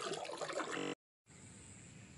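Irrigation water flows into a farm field in rural Punjab, a steady broadband rush of moving water that cuts out briefly and then resumes, moderately quiet and alone.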